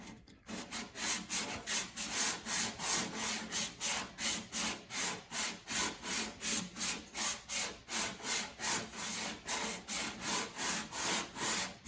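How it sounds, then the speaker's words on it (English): Rhythmic back-and-forth rasping strokes of sanding a dented car body panel, steady and close, about two strokes per second. "Sanding."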